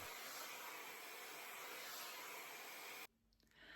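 A hair dryer fitted with a diffuser blows a loud, steady rushing hiss while drying wavy, curly hair, then cuts off abruptly near the end, leaving faint room noise.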